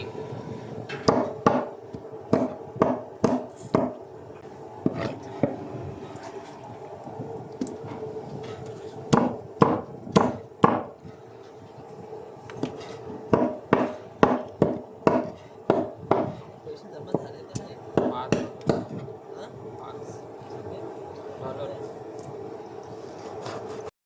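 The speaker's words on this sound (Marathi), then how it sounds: "शिवार कापतात आहेत" A knife chops fish on a cutting board aboard a fishing boat, clusters of sharp, close knocks in quick runs separated by pauses, with a low background hum.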